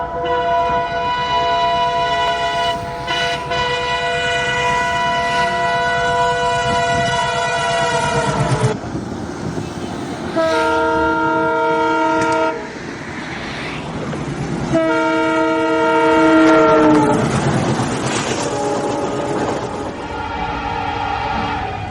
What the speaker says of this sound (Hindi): मेरे राइट साइड में इस समय जो ये पुल जा रहा है, यहाँ से ट्रेन जाती है।